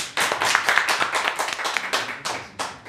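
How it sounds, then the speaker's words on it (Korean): Audience at a forum clapping in a brief, fairly loud burst of distinct claps that thins out toward the end, no speech over it. "큰 박수 부탁드립니다"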